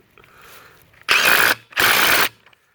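A Ridgid Octane half-inch impact wrench drives a rusty bolt back on, two loud, dense hammering bursts of about half a second each, close up, after a faint low rattle.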